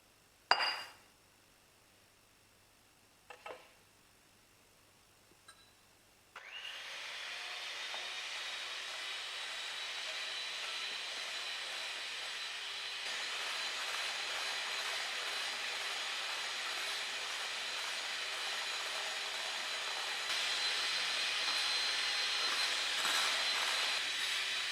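Egg whites are whisked for a flourless chocolate cake: a few light clinks, then a loud, steady whirring hiss that runs unbroken for about eighteen seconds.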